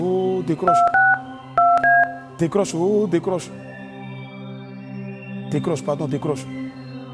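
A phone number is keyed in with a quick series of DTMF dial tones, heard in several short bursts of beeps. Voices talk over and between the tones.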